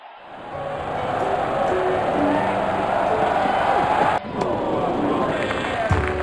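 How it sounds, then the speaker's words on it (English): A roaring stadium crowd cheers steadily after a boundary four in a cricket video game, a loud continuous wash of noise that dips briefly and then surges again. "Crowd going mad here."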